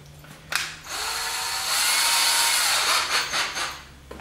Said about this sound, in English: we're gonna go back to our eighth inch drill bit